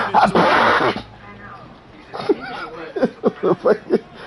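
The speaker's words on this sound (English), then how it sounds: "That was a sneeze?" A loud, close sneeze bursts out at the start, followed by a pause and then chuckling laughter in short rhythmic bursts.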